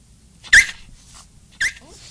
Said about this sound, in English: Silly dog. Nothing's gonna come out of there no matter how much you bark.